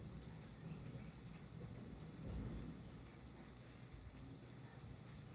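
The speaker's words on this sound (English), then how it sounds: "I think that's thunder." Faint, distant thunder rolls as a low, broad rumble that swells near the middle, over a steady hiss resembling rain.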